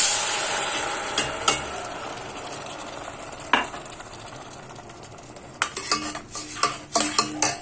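Tomato paste frying in a pan with garlic and coriander: a soft sizzle underneath, with scattered sharp scrapes and clinks of a spoon stirring against the pan, louder near the end.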